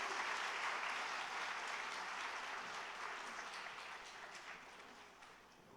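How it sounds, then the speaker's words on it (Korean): A church congregation at a Korean Presbyterian afternoon worship service applauds an infant baptism, a broad, continuous round of clapping from many people that gradually fades toward the end. "우리 축하의 박수 하겠습니다."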